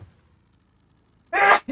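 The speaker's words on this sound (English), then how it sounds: "Need a sneeze." A single short, forceful human sneeze bursts out near the end after near silence, loud and close, followed by a tiny clipped sound.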